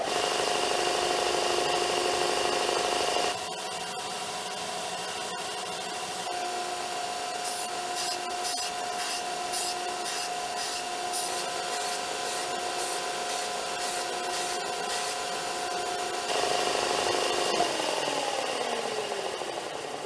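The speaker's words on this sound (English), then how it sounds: "I'm going to take it to the belt sander, and I'm going to sharpen them a little bit" A belt sander grinding and sharpening the points of small dollar-store knife blades: a continuous motor hum with a raspy scraping texture, the grinding contact pulsing in quick bursts mid-stretch, moderately close and without talk.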